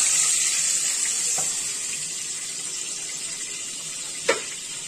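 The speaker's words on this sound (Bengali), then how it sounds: "যেন মাছটা এই সাইড ওই সাইড একটু হালকাভাবে শুধু ভাজা হোক" Fish fries lightly in oil in a pan with a continuous soft sizzle, broken by a couple of brief clinks from the cookware and a sharper knock near the end.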